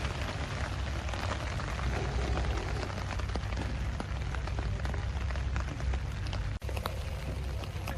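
Heavy rain pours down at a hillclimb circuit during a lunchtime break, a dense, steady hiss of drops hitting surfaces close by, unbroken and loud throughout with no voices.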